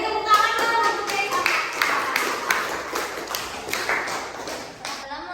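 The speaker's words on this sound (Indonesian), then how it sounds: "Beri tepuk tangan dong untuk Kay." Classroom applause for a student presentation: a group of students clapping steadily in a room, irregular hand claps overlapping for several seconds, with light voices mixed in.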